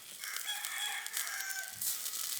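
A chicken on a Philippine farm gives a single drawn-out crow, near and clear, against quiet surroundings.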